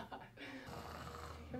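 Snoring with a low, rasping drone that holds steady through a short stretch, heard close and fairly loud with voices around it.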